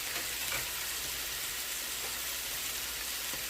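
Smash burger patties pressed with Vidalia onion sizzle and fry steadily on a hot griddle, a dense, even crackle close up with no talking.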